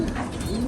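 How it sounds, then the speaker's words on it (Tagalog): A pigeon coos up close, a soft throaty burbling call with no other sounds around it. "Ito yung ating kalapati na mabait"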